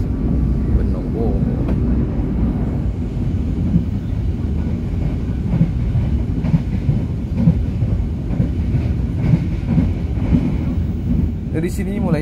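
An Indonesian passenger train rolls along the rails in East Java, a loud continuous rumble and rattle of wheels heard from on board, with brief speech over it.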